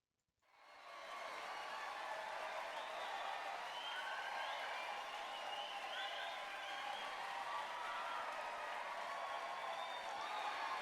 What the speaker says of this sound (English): a huge cheer burst up, one that resembled the rumbling of the earth